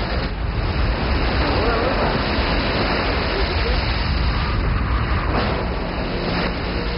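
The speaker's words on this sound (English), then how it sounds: "the ocean begins to pour into the pit" Ocean water pouring into a tin-mining quarry pit in Malaysia during the 1993 seawall collapse, a dense, steady roar of rushing water and churning mud heard throughout.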